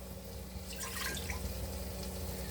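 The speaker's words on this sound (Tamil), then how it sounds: "இப்போது குக்கரை வச்சுட்டோம், தண்ணி ஊற்றிடுவோம்." Water pours and splashes steadily into a pressure cooker while cooking mushroom biryani, a continuous close liquid rush with no talking.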